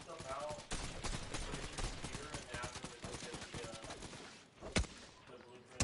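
Gunfire in the video game Fortnite, rapid bursts of shots under ongoing talk, with a sharp louder crack near the end.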